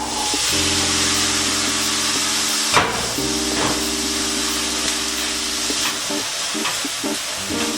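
Chickpeas sauté in a pan with a steady, loud sizzle, joined by a few sharp clacks of a utensil on the pan and a low humming tone running underneath.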